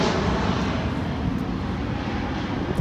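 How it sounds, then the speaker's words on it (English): A Delta airliner passes overhead, a steady broad roar of jet engine noise that holds at an even, fairly loud level throughout with no other sounds. "Another plane. Delta again."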